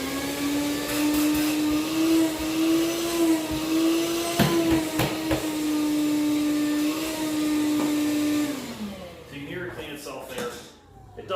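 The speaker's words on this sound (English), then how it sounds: "while it's running, it has a pretty good extraction" A Dewalt Flexvolt dust extractor runs with a steady, close motor drone for about eight seconds, with a few knocks and clicks along the way, then winds down into quieter handling noises.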